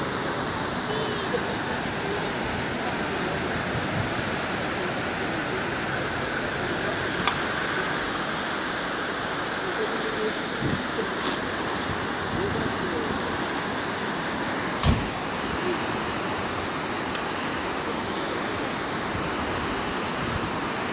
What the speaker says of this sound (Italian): fiume Pescara, esondazione con grandissima portata del fiume e forte velocità della